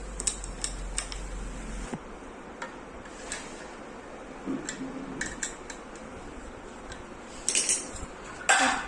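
Light metallic clicks and taps come and go as a handle is screwed onto a pressure cooker pot, close and soft, ending in a louder rattle.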